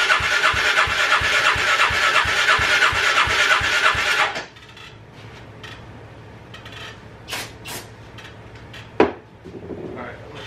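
A Polaris 500 engine runs hard with the throttle held, a loud, steady pulsing roar that abruptly drops off to a quiet low idle, with a few faint knocks and clatters after.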